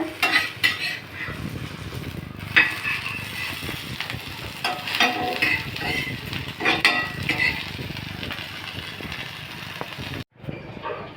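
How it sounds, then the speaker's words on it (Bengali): Tomatoes fry in a pan for an egg bhujia, a soft sizzle under frequent clatter and scraping of a utensil stirring against the pan, close by with no talking. "টমেটোগুলো ভালো ফ্রাই হয়ে গেছে।"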